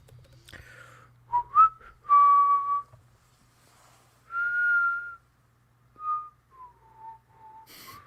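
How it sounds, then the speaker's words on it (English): A person whistles a short, halting series of clear tones, a few quick rising notes followed by longer held pitches separated by pauses, close and alone. "I can't whistle either."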